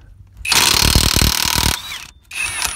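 A HERCULES Ultra Torque Gen2 high-torque impact wrench hammers a vehicle's lug nut in one loud, rapid rattling burst of about a second, pauses briefly, then starts another short run. It is close and dominant.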